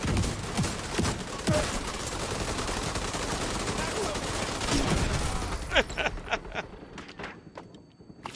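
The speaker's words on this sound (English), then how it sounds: "They have LMGs now, though? Man, these guys are getting stronger. I got an MG too" Light machine gun fire in The Division 2 rattles in long, dense bursts of rapid shots that fill most of the clip, then breaks into a few sparser shots near the end.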